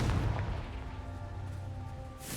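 A Confringo fire spell from Hogwarts Legacy detonates as a loud, close, booming blast that decays over a couple of seconds into a rumbling tail.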